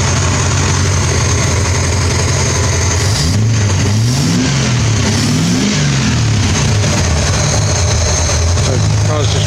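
A 1982 Triumph TR7 V8 with a large-bore exhaust idles with a deep rumble, then is revved several times in quick swells before settling back, loud and close.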